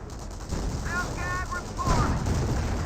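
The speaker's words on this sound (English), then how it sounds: "M1AT gun firing some good shots over here" An American M1 anti-tank gun fires in Company of Heroes, sharp reports and whistling shell sounds over a rumbling battlefield, with a voice talking over it.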